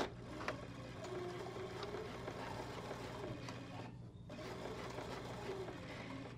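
A sewing machine runs in a steady, faint mechanical whir while stitching a strip of fabric for a continuous-lap placket, with one brief pause partway through before the motor resumes.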